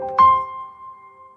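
A single piano note from an orchestral template, struck once and left ringing, its tone fading slowly into a long reverb tail.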